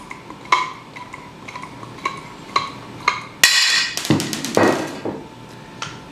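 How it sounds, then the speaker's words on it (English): A hand rivet tool is pumped to pull a rivet, giving sharp metallic clicks and clanks in an uneven rhythm, close and fairly loud, with a brief rattling burst partway through and no speech. "you insert the rivet into the hole and pump the tool."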